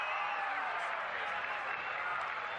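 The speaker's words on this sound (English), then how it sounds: "Crowd noise really ramping up on third down." A college football stadium crowd roars on a third down, a dense, sustained wash of cheering and clapping with a commentator talking over it.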